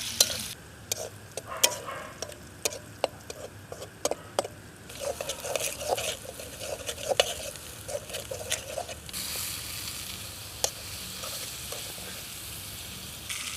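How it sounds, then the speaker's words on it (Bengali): Onions fry in a pan at an outdoor jungle cooking spot at night, a steady sizzle running throughout with repeated sharp clicks and scrapes of stirring, growing denser and brighter toward the end. "দর্শক বন্ধুরা দেখতে পাচ্ছেন এখানে পেঁয়াজ ভাজা হচ্ছে"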